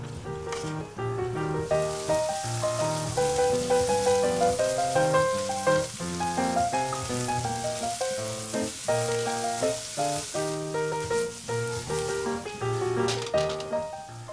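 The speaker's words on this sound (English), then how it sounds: "Cook the kernels until tender and bright yellow." Corn kernels fry in butter in a pan with a steady, close sizzle under light background music, without speech.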